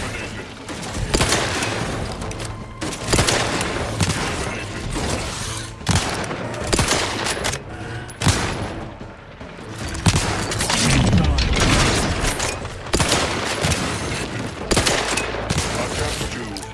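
Continuous gunfire and explosions from The Outer Worlds 2 form a dense, loud, sustained barrage of rapid shots and booms, with a voice talking over it.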